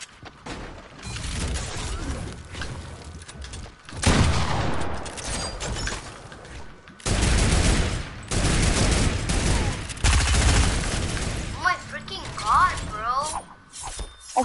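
Turret gunfire in a video game: bursts of rapid, loud automatic fire in several blocks, with crackling impacts between them and a voice talking underneath.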